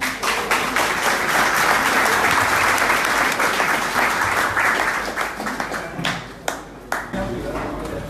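An audience applauds at a French football club's sixteenth championship celebration, with dense, sustained clapping that thins toward the end and a voice heard partway through.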